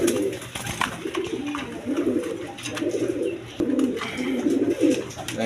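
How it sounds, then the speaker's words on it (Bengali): Large pigeons coo repeatedly nearby in low, throaty rolling calls, several overlapping bursts over a quiet background. "একদম বিগ সাইজের কবুতর ছটপটা কবুতর"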